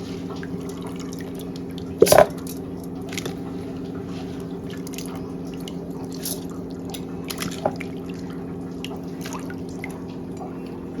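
A small splash of water poured onto rice in a mixer grinder jar, then scattered drips over a steady low hum.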